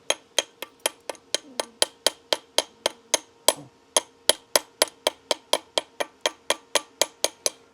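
Steady, evenly spaced hammer blows ring out one after another, about three per second, sharp metallic strikes close by with no talking.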